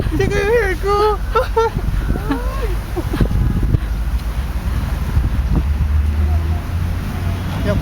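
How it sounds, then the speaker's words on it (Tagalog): Strong wind in Dalian, China, buffets the microphone in a steady low roar, with people talking loudly over it throughout. "Lakas-lakas po ng hangin ngayon."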